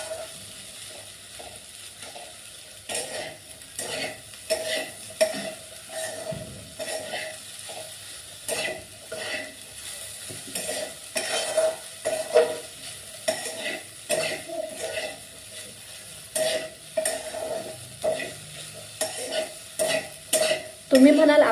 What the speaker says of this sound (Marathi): सर्व मिश्रण व्यवस्थितपणे हलवून घ्यायचं आहे